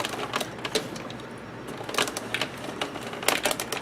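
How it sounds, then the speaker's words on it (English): A 9-inch Xyron sticker machine is cranked by hand, giving a run of quick, irregular clicks and rattles at close range with no talking. "this is a 9-inch Xyron machine"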